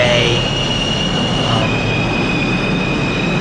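A simulated NYC Subway R160 A train rolls steadily in the OpenBVE game, giving a loud continuous roar with a sustained high wheel squeal that steps down in pitch partway through, and no break in the noise.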